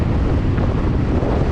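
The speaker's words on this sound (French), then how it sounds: "Alors il y a un petit peu de vent comme vous pouvez le sentir, mais bon en soi pas trop gênant." Wind buffets the microphone on a seaside motorcycle ride from Monaco toward Nice, a loud continuous rumbling roar with no break through the short stretch.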